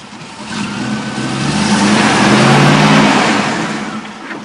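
An off-road car's engine revs steadily and loudly while it rocks back and forth trying to get unstuck, the pitch swelling to a peak midway and easing off again, with no talking.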